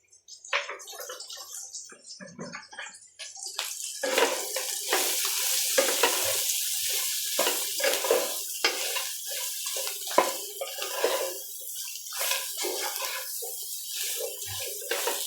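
Soybean chunks coated in turmeric sizzle in a shallow layer of oil, starting faint and swelling into a steady crackling fry after a few seconds, punctuated by repeated spatula scrapes and stirring knocks.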